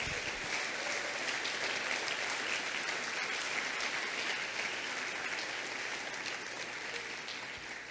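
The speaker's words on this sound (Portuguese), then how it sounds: "Se você crê, dê um forte aplauso a Jesus" A church congregation gives strong, sustained applause at an evening service, a loud dense roar of many hands clapping steadily for several seconds and easing slightly toward the end.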